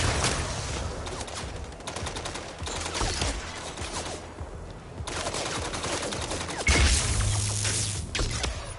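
Gunfire in the video game MindsEye: rapid bursts of automatic shots and clattering mechanical rattles, loud and near, broken by a few brief lulls and ending with a heavy thump.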